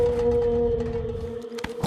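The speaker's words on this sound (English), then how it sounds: "the plaintive song of the blue whale" Blue whale song from a cartoon, a long, steady, plaintive tone drawn out for nearly two seconds over a low rumble, ending with a couple of short noisy bursts.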